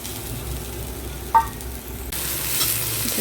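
Tomato, garlic and ginger sizzling in hot oil alongside roasted onion in a pan, a steady close fry with a brief stir clatter partway through and a louder sizzle swelling near the end.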